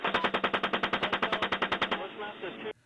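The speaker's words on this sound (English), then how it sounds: "footage of U.S. Apache gunships mowing down civilians in Iraq" A U.S. Apache helicopter gunship fires its machine gun in a rapid, steady burst of about twenty evenly spaced loud rounds, followed by a brief rumbling tail that ends sharply.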